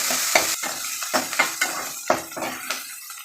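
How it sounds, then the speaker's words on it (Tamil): Onions sizzle steadily in a pan in a home kitchen, with a spoon scraping and stirring through them in repeated close strokes over a continuous frying hiss. "வெங்காயம் நல்லா வதங்கட்டும்."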